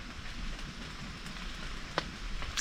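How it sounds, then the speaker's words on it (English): Steady patter of rain falling on a tent during a severe thunderstorm while solo camping, a soft continuous hiss with occasional sharper drops striking the fabric close by. "I kind of hope it rains like this, a slight little drizzle all night."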